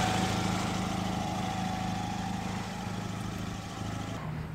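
A 1995 Mercedes with a 1.8 petrol engine in good condition idles steadily nearby, a constant low hum and drone that drops away abruptly at the very end.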